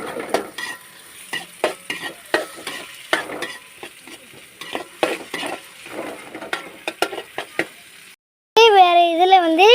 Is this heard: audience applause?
no